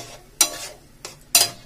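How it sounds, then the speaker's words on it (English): A spoon stirs a caramelized coconut burfi mixture with cardamom powder, giving two distinct scraping strokes, a fainter one between them, over a low steady background. "Stir it."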